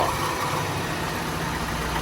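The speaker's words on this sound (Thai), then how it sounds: "นี่ครับผมเครื่องยนต์เดินนิ่งๆเลยนะฮะเดินเด ินเรียบ เรียบเรียบนิ่งๆนะฮะ" A Honda City with automatic transmission idles under the open hood, its engine giving a steady, even hum with a low rumble and no revving, close and constant throughout.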